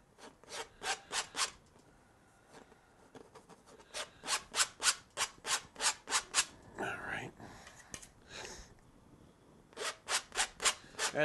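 A painting knife scrapes paint across canvas during a lakeview mountain landscape painting, making repeated rhythmic rasping strokes in bursts. The strokes are close and loud, with a few softer smeared passes partway through.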